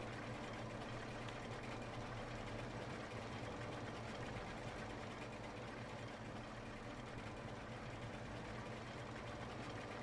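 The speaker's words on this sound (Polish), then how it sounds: "tutaj cofnę ciągnikiem, Fergusonkiem," A Massey Ferguson tractor reversing in the farming video game Farming Simulator 25, its engine giving a steady, even drone with a low hum and faint mechanical rattle, constant and unchanging throughout.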